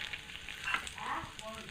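Three bay leaves sizzle in hot oil with cumin in a Bengali kitchen while fish-egg curry is being made, giving a steady close crackle and spit that runs through the whole short moment.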